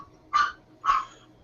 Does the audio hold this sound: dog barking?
yes